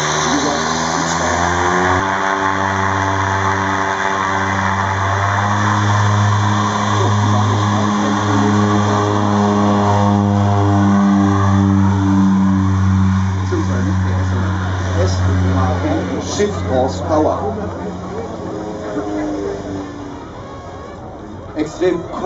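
A North American OV-10 Bronco propeller aircraft engine drones steadily at a distance, its tone shifting as it taxis, while a voice talks over it throughout.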